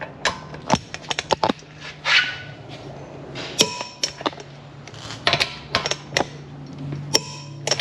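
Sharp metallic clicks from a torque wrench tightening the lug nuts on a Honda Accord wheel, a series of crisp, close snaps in quick clusters with short pauses between them.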